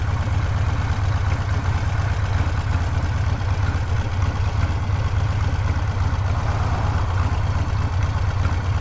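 A 2020 Harley-Davidson Sportster engine idles on a Dynojet dyno, a steady low rumbling drone that holds constant and loud throughout with no talk.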